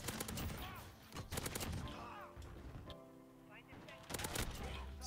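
Gunfire from Call of Duty Modern Warfare, including shotgun blasts, heard as repeated sharp bursts mixed with game effects while a player talks over much of it.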